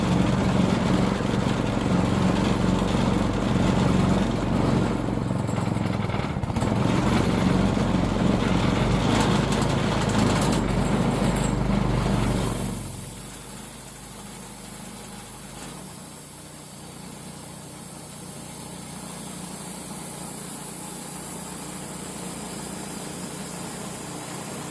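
Sawmill engine running while cutting an elm log, a loud continuous engine roar that drops away partway through, leaving a quieter steady hum and hiss.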